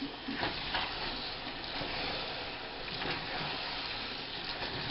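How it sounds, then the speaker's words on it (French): Kraft Dinner macaroni being stirred with milk in a pot over low heat, a soft continuous scraping and gentle sizzle with faint watery swishes, steady and close, with no talking. "Et on remue le tout à feu doux"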